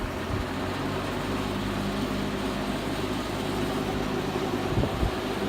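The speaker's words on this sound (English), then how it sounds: "Let's do high to a spin down." An Arctic Air Fasco box fan on its high setting gives a steady broadband whoosh with a low motor hum, holding even throughout without a clear drop in speed.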